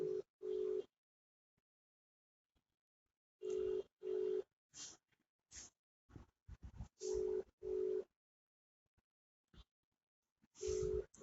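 A telephone ringback tone while an outgoing call waits for an answer, repeated double rings separated by pauses, clear and moderately loud, with faint room shuffles in the gaps.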